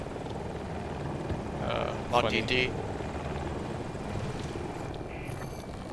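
A helicopter in Battlefield 2042 thrums steadily and close throughout, with brief beeps and effects on top and people talking over it.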